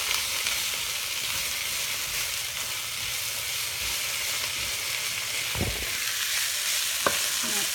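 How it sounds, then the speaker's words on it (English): Vegetables fry in a hot pan while being stirred, giving a continuous close sizzle with soft scraping and a couple of sharp clunks of the utensil against the pan. "And then I'm going to stir that up."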